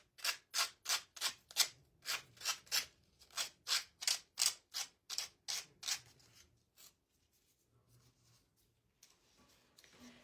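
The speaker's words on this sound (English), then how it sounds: "When I take this little piece of sandpaper and I come around, then it takes it off." Sandpaper rubbing back and forth along the excess edge of a decoupaged napkin, about sixteen quick rasping strokes in a steady rhythm, close and crisp, then stopping into near silence with a few light handling touches.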